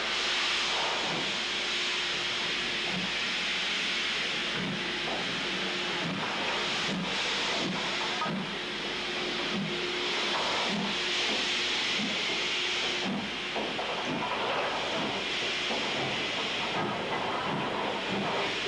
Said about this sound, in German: Auf seinem weiteren Weg der Schweiz entgegen wird der Nostalgie-Rheingold nur noch von der badischen 4H gezogen.